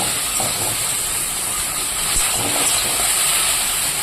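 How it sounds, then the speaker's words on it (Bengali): Okra frying in a pan gives a steady, loud hiss that runs without a break, with no voices over it. "ভেন্ডিটাকে আমি ভালো করে ভেজে নেব"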